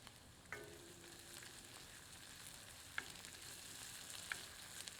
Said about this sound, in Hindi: सामग्री को अब 1 से 2 मिनट मध्यम आंच पर भूनते हैं